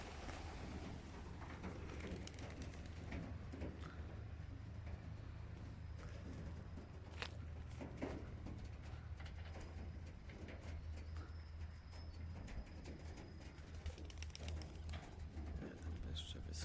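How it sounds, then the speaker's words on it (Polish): Soft cooing and fluttering of racing pigeons just released on a training flight drift over a constant low rumble of background noise, faint and somewhat distant. "wypuszczamy gołąbki"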